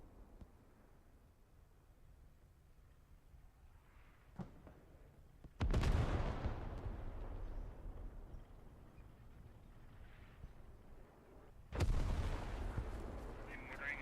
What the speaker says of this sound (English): There are the mortars finally coming in near the radio.